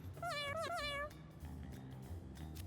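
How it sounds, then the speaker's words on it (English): A house cat meows three times in quick succession, drawn-out rising and falling cries close by, followed by quiet background rustle with no speech. "That's my cat's telling me that I've waited too long."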